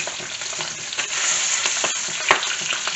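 Skin-on salmon fillets sizzle steadily in a hot pan, with a fork-assisted flip making a sharp clatter near the end as the hiss continues, close and moderately loud.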